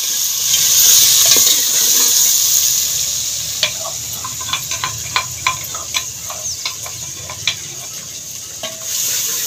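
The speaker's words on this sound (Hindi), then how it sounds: "और जी प्याज हो गए ने ब्राउन, और मैं कहा मसाला पाना।" Browned onions fry with masala in a pan on a small gas cylinder stove in a Pakistani home kitchen, a steady hiss broken by a run of sharp spoon taps and scrapes against the pan.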